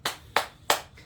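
Three crisp hand claps at an even pace, close and fairly loud, followed by a softer fourth clap.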